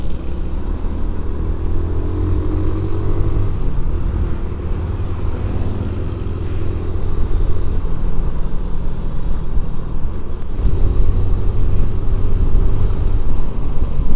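A Yamaha Vega ZR motorcycle ridden hard at full throttle on a quiet road, its engine droning in a steady loud rumble with wind noise, rising slightly in intensity toward the end, no talk.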